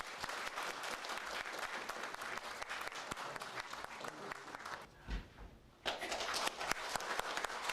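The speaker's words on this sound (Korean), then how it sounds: "박수로 환영해 주시기 바랍니다" A crowd applauds to welcome former South Chungcheong governor Yang Seung-jo, a Democratic Party politician, as he announces his Cheonan candidacy for the 22nd general election. The steady clapping briefly thins to a lull before swelling again.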